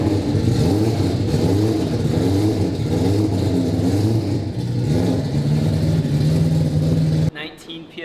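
A 4-rotor Mazda RX-7 rotary engine runs loud and close, its pitch rising and falling through several revs before cutting off abruptly near the end, with voices faintly underneath.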